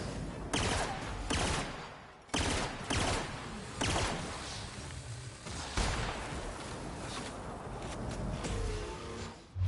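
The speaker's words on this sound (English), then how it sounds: "it's a burst gun. It's a little slow on the reload" Burst-fire gun from The Outer Worlds shooting in several separate bursts of rapid shots, loud and close, with brief pauses between volleys and no talking.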